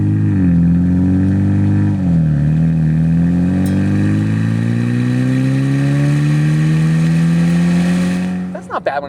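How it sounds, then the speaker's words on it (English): A Ford Maverick Lobo sport truck with a 2-liter EcoBoost engine and Thermal R&D exhaust revs loudly, its engine note rising steadily in pitch over several seconds before cutting off near the end. "It sounds like a sport truck now."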